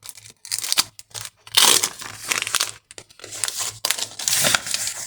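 Paper surprise packet being unwrapped, with crinkling and tearing of paper in repeated bursts separated by short pauses, fairly close and moderately loud, with no talking.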